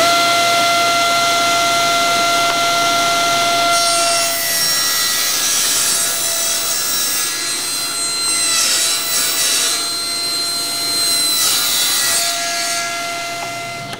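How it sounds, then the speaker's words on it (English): A table saw rips a long strip of wood in a workshop, giving a steady, loud whine with a bright, sustained ring that swells as the board feeds through and eases off near the end, with no talk. "long enough that it's safe enough to feed through the table saw. So I'll just cut a long strip"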